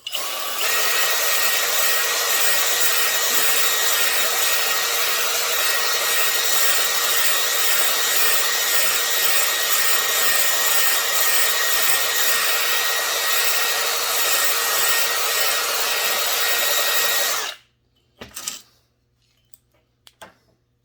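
A 1 3/4 inch hone spins inside a Husqvarna 357xp chainsaw cylinder during a rebuild, a loud, steady, whirring drill-driven grind for about seventeen seconds before cutting off abruptly, followed by a few clunks.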